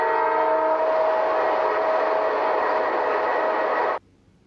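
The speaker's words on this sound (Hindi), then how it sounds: "ट्रेन को हिंदी में कहते हैं रेलगाड़ी और संस्कृत में कहते हैं रेलयानम" A loud, steady train horn blares for about four seconds, holding a rich chord, then cuts off abruptly, leaving faint background noise.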